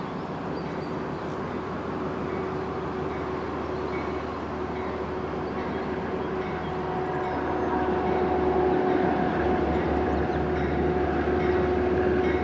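A Hudson Line train rumbles past on the Hudson River line as a steady, broad roar with a sustained tone running through it, growing slightly louder toward the end, with no voices.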